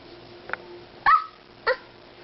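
A young child imitates a dog, giving three short sharp bark-like yips spaced apart, close and clear against quiet.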